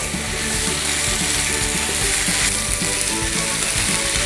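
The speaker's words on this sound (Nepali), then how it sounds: "अब यसलाई हामीले 5-6 मिनट मजाले भुट्ने, यसलाई 10 मिनटसम्म पनि भुट्न सकिन्छ।" Goat meat sizzles as it fries with spices in a pan, a loud, steady crackle with rhythmic scraping or clattering running throughout.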